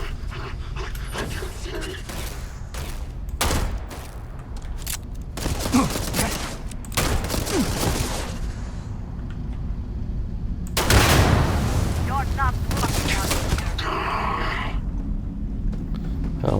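Gunfire in the video game Starfield, with bursts of shots and loud noisy blasts spread across the clip over game background sound and occasional voice.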